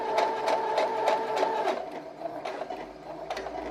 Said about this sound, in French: Ensuite, je couds jusqu'à la fin de mon épaule